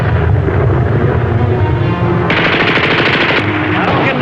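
A naval gun crew opens fire on a target in a rapid, continuous barrage of loud, close bursts and booms that rattle on without pause.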